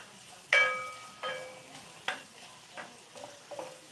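Celery and green onions being stirred in a hot pan, with a few scraping, sizzling bursts spaced about a second apart over a quiet background.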